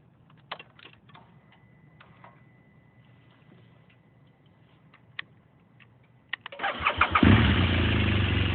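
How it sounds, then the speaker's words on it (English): A 2014 BMW dual sport motorcycle engine cranks and catches at about six and a half seconds, then settles into a loud steady idle, preceded by quiet clicks and handling noises. "I'm going to turn this bike on."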